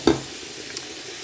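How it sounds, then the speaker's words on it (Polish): Chopped carrot, onion and ham sizzle in a pan on an induction hob, with a sharp stirring scrape at the start and a steady frying hiss throughout, close and alone. "Ja to teraz podsmażę, a później wrzucę do garka i będę gotować z tego sos."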